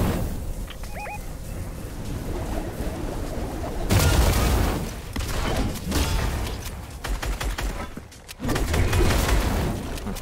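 Bursts of gunfire and heavy blasts fill a video game arena match, with dense rattling volleys and booms following one another loudly and continuously over a busy background.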